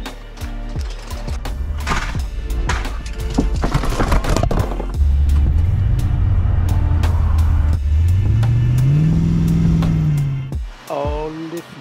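Small engine of a repowered racing lawn mower revving up, its pitch climbing and holding high before dropping off, preceded by clattering mechanical knocks and loud and close throughout.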